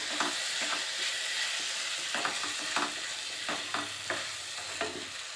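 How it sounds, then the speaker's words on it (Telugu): A spoon scrapes and clacks against a pan of paneer masala curry in irregular strokes, over a steady low hiss of cooking. "ఇప్పుడు ఒకసారి మూత తీసేసి కలుపుకుందాం"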